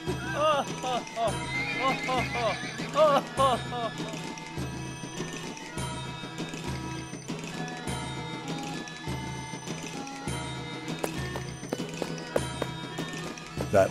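Horses whinny and neigh amid rapid hoofbeats and clattering, with voices talking over the busy, continuous commotion.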